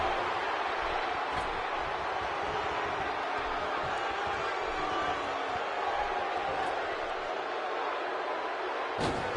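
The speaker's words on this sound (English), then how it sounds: "by the sound of this crowd, I think they're getting what they wanted" A video game wrestling match crowd roars in a continuous, dense wash of cheering and noise that holds steady throughout, with a few faint impacts near the end.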